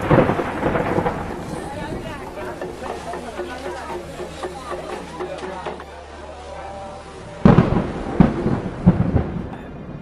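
Rain pours steadily with rolling thunder in an evening storm at Kedarnath, loud and dense, with a sharp, heavy thunder crack near the end.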